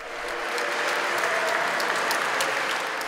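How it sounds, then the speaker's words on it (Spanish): A church congregation bursts into warm applause for a cardinal at the end of Mass, a dense, sustained clapping that swells quickly and holds steady. "Al final de la misa, el cardenal fue recibido con un caluroso aplauso de sus hermanos,"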